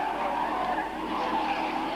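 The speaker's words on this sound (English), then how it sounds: "there goes Cole. My goodness me, that was a big impact at the back of the car" A TVR Tuscan Challenge race car in a 1990 race skids with a sustained harsh tyre scrub and squeal, loud and continuous for two seconds with engine noise underneath; no distinct crash thump stands out.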